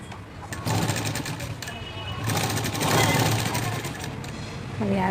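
A sewing machine stitches the front part of a blouse with a steady, close motor whir and needle chatter, rising and falling slightly, while someone talks over it.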